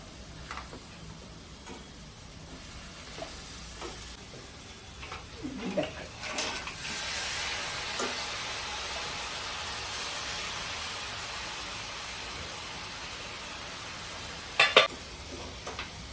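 Crab curry with onion frying in a pan, steady sizzle with intermittent spoon stirring and clinks against the pot, a sharp clatter near the end; a voice speaks softly at times.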